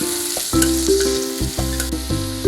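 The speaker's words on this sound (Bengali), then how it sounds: "এখন পেঁয়াজগুলো দিয়ে একটু ভেজে নিব।" Onions frying in oil in a kadai, a steady sizzle with stirring under loud tonal background music.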